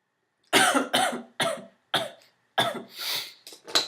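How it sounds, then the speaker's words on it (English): Several sharp coughs in quick succession, close and loud, with short pauses between bursts and no talking. "Sorry about all the coughing."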